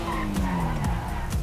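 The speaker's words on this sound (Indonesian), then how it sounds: "Tapi kalau mobil pakai mobil ini kita bisa ngedrift dikit ya tadi." A car drifts in GTA V, its engine revving loudly while the tires skid and squeal across the road in a short, close burst.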